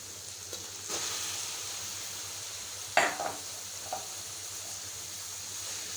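Minced meat, a kilo of keema, fries in a pan with garlic and ginger, giving a steady soft sizzle with occasional stirring scrapes and a few louder clinks partway through.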